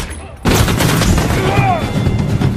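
Gunshots in an action film scene, a sudden loud burst after a quiet start that stays dense and booming, with sharp cracks and a voice mixed in under the gunfire.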